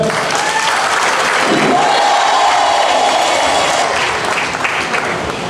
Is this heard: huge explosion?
no